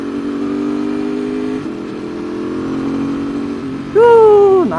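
Ducati 848 Evo sport motorcycle idling with a steady low engine drone, then a sharp loud throttle blip that climbs and holds before dropping away near the end.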